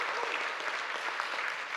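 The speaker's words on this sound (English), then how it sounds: "Let's give them a round of applause." Audience applause in a church service, a steady wash of hand clapping at moderate distance lasting throughout, with no speech over it.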